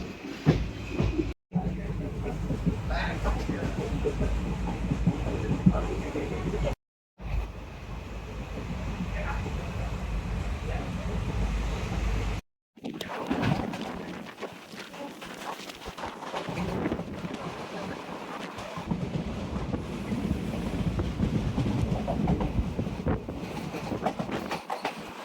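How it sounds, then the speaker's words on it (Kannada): A train running from Udupi toward Madgaon in the rainy season gives a steady rumble and rattle throughout, with louder, rougher wheel noise in the later part and short drops to silence between cuts. "ನಮ್ಮ ಟ್ರೈನ್ ಉಡುಪಿಯಿಂದ ಮಡ್ಗಾಂವ್ ಹೋಗ್ತಿದೆ"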